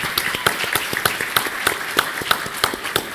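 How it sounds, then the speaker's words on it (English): An audience at a lunch plenary of a sexual health conference claps in a steady, evenly spaced rhythm, sharp near claps repeating about three times a second, with no one speaking over them. "Clap it up."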